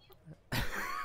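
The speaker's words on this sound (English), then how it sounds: "One second, as I slowly have a coughing fit" A person in a livestreamed tabletop role-playing session breaks into a sudden, harsh, close cough after a quiet moment, with the rasping burst carrying on to the end.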